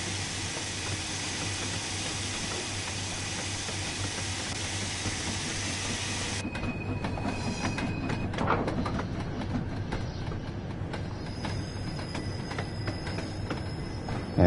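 A steam locomotive in the Train Sim World 2 game rumbles and hisses steadily, with rail noise and a thin whistle-like tone appearing partway through, continuous and without talk.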